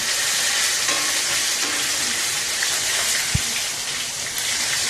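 Chopped tomato sizzling in hot oil seasoned with black cumin, a steady dense crackle and hiss throughout, close and even, with a soft stir or clink near the middle and no talking.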